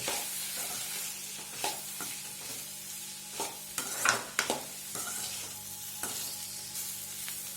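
Beetroot tossed with masala powder in a frying pan, a soft steady sizzle with repeated scraping and clinking strokes of a spoon against the pan, close and fairly quiet, with no talking.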